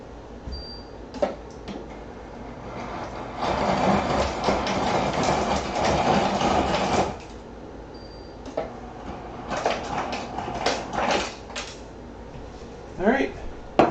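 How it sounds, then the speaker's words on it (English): Ice tumbles into a cocktail shaker for a drink, a loud, close clattering rush of a few seconds followed by scattered rattles and knocks. "I'm going to add some ice here. So cover your ears, this is going to be a little loud for a minute"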